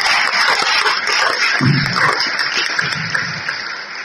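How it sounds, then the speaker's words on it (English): Applause from a science-show audience at Science on Stage in Prague, a steady dense clatter of clapping held at even loudness throughout, with a brief low thump partway through. "Let's give her a round of applause for having very attractive hands."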